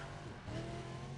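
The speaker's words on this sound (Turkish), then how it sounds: "Ford GT kullanıyor." Ford GT engine droning steadily in the racing video game Need for Speed Undercover, a continuous quiet hum with faint rising revs and no voices.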